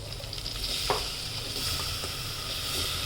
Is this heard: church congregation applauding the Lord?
no